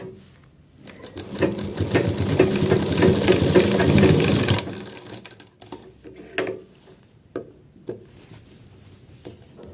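A sewing machine stitches the side seam of a coat in one loud, steady burst of rapid mechanical whirring lasting several seconds, then stops, followed by scattered clicks and handling noises.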